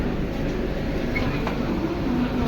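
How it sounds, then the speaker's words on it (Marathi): Train rolling into a station, a steady low rumble with faint wheel squeals near the end, loud and continuous with no talk. "8:30 वाजची ट्रेन आता येतो"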